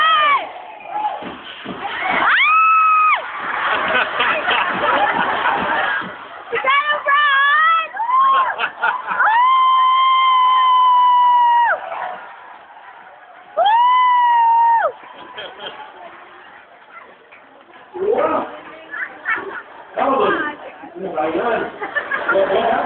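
An audience of children at a party show shouts loudly in unison in repeated bursts, counting along, with a host's voice speaking between the group shouts.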